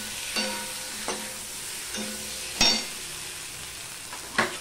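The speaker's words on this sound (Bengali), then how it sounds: "আদা পেস্ট অল্প একটুখানি, দিয়ে দিলাম এই টমেটোটুকু" Ginger paste and tomato sizzle softly in a pan, a steady frying hiss broken by four or five sharp scraping stirs spaced about a second apart, with no talking.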